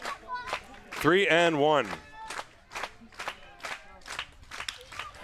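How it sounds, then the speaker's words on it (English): At a baseball playoff game in Haar, a raucous crowd roars and yells in a loud burst, then rhythmic clapping and chanting follow, with a voice talking over the din. "This is the most raucous crowd I've ever heard at a ball game in Haar"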